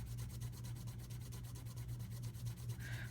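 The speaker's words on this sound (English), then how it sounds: "what I'm going to do is just strop these washers" Evenly spaced rubbing strokes from stropping the washers of a Benchmade 950 Rift pocketknife, a soft close back-and-forth scrape over a low hum, with no talking.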